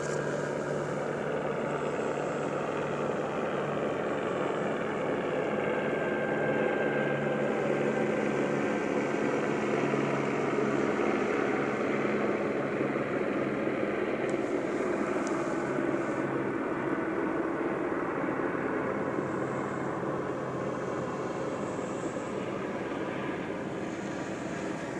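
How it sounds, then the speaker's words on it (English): A steady, loud aircraft drone hangs overhead for the whole stretch, a helicopter's continuous engine and rotor roar with slowly shifting pitch and no pauses. "Listen to that helicopter activity."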